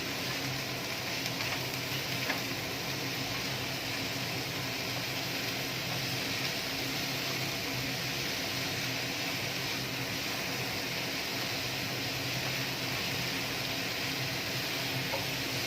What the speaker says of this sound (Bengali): ভালো করে নুনটা ভাজার সঙ্গে মিশিয়ে নেব।